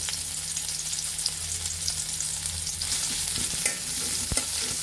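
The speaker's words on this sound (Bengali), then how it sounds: "একটু ভাজা ভাজা করে নেব" Chopped garlic and onion with cardamom sizzle in a little white oil in a pan, with a steady close frying hiss and occasional stirring scrapes throughout.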